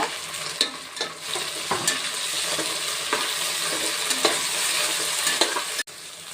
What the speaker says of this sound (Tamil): வெங்காயம் வதங்கவும் தக்காளியும் போட்டு கொஞ்சம் லேசாக வதக்குங்க.